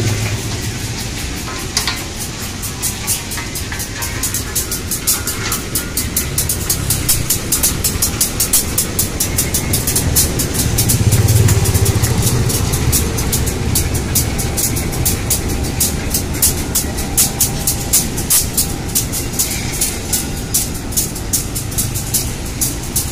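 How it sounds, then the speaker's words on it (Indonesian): A train runs on newly laid railway track, a loud, continuous rumble with rapid rhythmic clicking and rattling of wheels, swelling briefly as it passes close, with no voices. "jadi inilah kereta yang pertama menginjakkan rodanya di rel yang baru"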